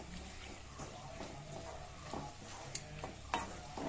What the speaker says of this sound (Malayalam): ഇനി നമുക്ക് കുറച്ച് സോയ സോസ് ആഡ് ചെയ്ത് കൊടുക്കണം. ഇത് ഒന്ന് മിക്സ് ചെയ്യുക.